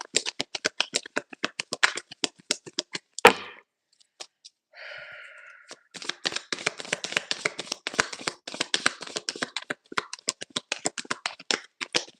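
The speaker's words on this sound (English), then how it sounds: "I'll do like 2 more shuffles, see if anything flies out." A tarot card deck is shuffled by hand, giving rapid riffling flutters and taps in quick bursts, close and clear, with a brief pause and a soft breathy sound in the middle.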